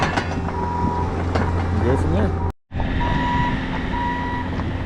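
Trucks maneuver to hook up salt spreaders, a steady series of reversing beeps repeating over a low diesel rumble, briefly cut off midway, with a voice speaking over the engine noise.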